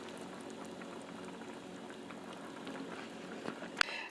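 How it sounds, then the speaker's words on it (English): A pot of collard greens, cooked for an hour, simmers with a low, steady bubbling hiss and one sharp clink near the end. "collard greens have been cooking for 1 hour now"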